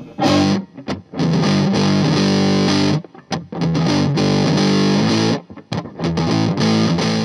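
Heavily distorted electric guitar chords through an MXR Distortion Plus pedal ring out loud and thick, with a few brief stops and gaps between sustained, saturated riffs.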